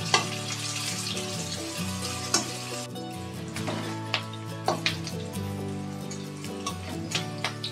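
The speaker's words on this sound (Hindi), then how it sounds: "3 प्याज कटा हुआ डालेंगे। दो तीन हम तेज़पत्ता डाल देंगे तोड़ करके इस तरह से।" Chopped onions and broken bay leaves frying in hot oil for a rohu fish curry, a bright continuous sizzle with repeated ladle scrapes and taps against the pan, close up with no talking.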